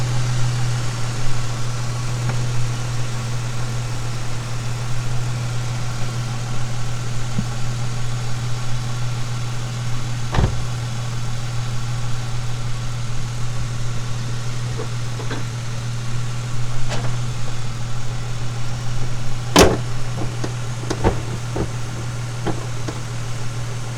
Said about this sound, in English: I'm still gonna leave my car running for a little bit so I can let it charge up some more.